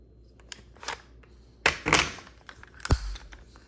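An AR-15 magazine seats into the rifle's magazine well with a few sharp, close plastic-and-metal clacks and a firm thunk near the end, over quiet background handling.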